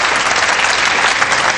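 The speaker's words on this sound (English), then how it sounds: "Our crowd appreciating that shot," A crowd at a professional pool match between Mika Immonen and Ralf Souquet bursts into loud, steady applause after a shot, dense clapping filling the whole moment.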